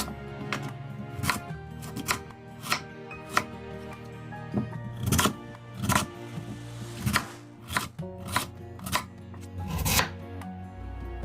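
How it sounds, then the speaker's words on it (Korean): A knife chops radish into pieces on a cutting board, giving sharp, close, irregular knocks with short pauses between cuts, alone with no talking. "너무 두껍지 않게, 너무 크지 않게 자르시는 게 좋습니다."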